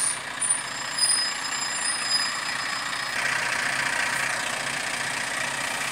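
A Renault Premium 420 hp truck engine idles with a steady low rumble, a hiss of air brakes and faint high beeping layered on top, holding at an even loudness throughout.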